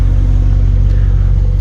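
The rear differential of a BMW E39 540i turns with the wheels spinning freely on stands, giving a loud, steady, close drivetrain rumble with a constant low hum throughout.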